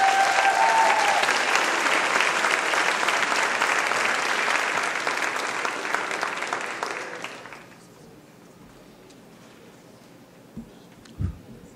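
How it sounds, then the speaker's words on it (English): Warm applause from the audience at a high school senior awards ceremony, a loud, dense wash of clapping that fades out after several seconds, leaving a quiet room with a couple of soft bumps. "If you would give a warm round of applause for Mr."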